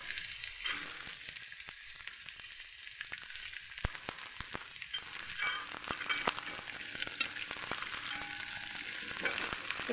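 Green chilies fry in hot oil with mustard seeds, curry leaves and onion, making a loud continuous crackling sizzle with scattered sharp pops, close up and without talk.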